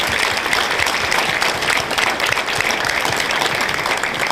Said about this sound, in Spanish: yo pido un fuerte aplauso para todo ese equipo que hizo realidad este